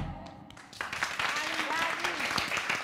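A studio audience claps and cheers during an Italian comedy show, steady applause swelling after a brief pause, with voices and music underneath.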